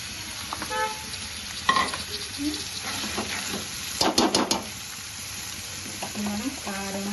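Fish pieces drop into a pan of simmering raw-mango fish curry, giving a low sizzle under stirring and metallic clatter from the pot, heard close with a few sharp knocks.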